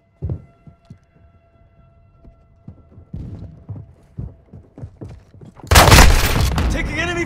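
Enemy gunfire in Call of Duty: Modern Warfare II, a string of sharp, moderately loud shots popping at irregular intervals, followed near the end by a sudden loud, sustained burst of noise.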